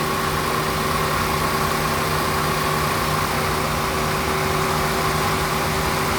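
A Toyota Rush Type S engine runs at a steady idle, a continuous, even hum with a constant low drone and no changes in pace, heard close and alone without any talking.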